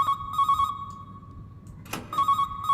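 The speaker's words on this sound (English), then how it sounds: "Before I answer the goddamn phone" Telephone ringing in the video game Calling, a loud, close electronic trill in repeated bursts with short gaps between, one sharp thump midway, no talking.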